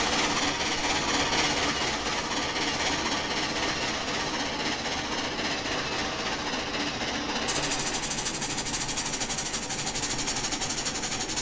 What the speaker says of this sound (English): High-speed chuff sound.